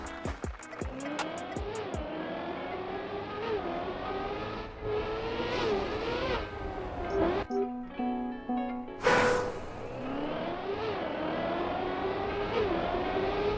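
Race car in Trackmania: loud engine repeatedly revving up and shifting, with rising and falling pitch sweeps and a short mid-clip break of other tones before the engine returns, with no speech.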